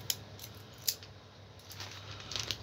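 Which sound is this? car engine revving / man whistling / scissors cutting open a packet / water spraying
scissors cutting open a packet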